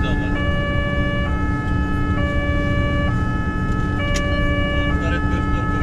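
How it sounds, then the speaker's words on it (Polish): An ambulance siren sounds at a roadside crash scene where a car struck the barriers. Its two-tone wail alternates steadily and loudly over a constant low road and engine rumble. "No tutaj karetka stoi, zobacz."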